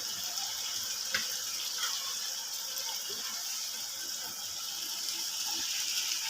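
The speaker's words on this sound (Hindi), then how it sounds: "इसमें हम बॉयल किए हुए चने डाल लेते हैं।" Boiled chickpeas tipped into a pot of cooked masala, giving a steady close sizzling hiss with a few sharp clicks and small splashes, and no talking.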